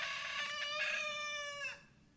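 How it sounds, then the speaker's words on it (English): A single drawn-out, harmonic chicken cry, fairly close and moderately loud, rising then fading out after about a second and a half. "Shut up, chicken."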